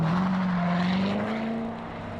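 A 2014 Chevrolet Corvette Stingray engine holds a loud, steady drone whose pitch climbs slowly as the car accelerates, heard up close with no voices.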